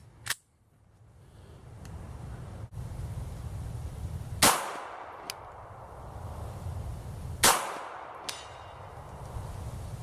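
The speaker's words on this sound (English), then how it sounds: "I'm just going to take a few shots at it and see if we can do any good." Pistol shots from a Canik TP9SA handgun at a shooting range: a few sharp cracks spaced seconds apart, with a couple of fainter impacts between them, heard fairly close over a steady outdoor background hiss.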